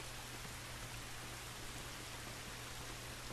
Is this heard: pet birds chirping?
no